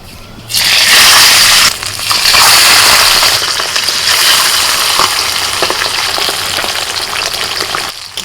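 Pabda fish frying in hot oil gives a loud, steady, crackling sizzle that surges after a brief quiet start and continues with spitting pops throughout.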